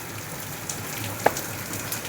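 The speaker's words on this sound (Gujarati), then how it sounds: "વરસાદ પાછો ચાલુ થઈ ગયો છે" Rain falls in a steady, even hiss of patter, with a single sharper drip or splash near the middle and no one speaking.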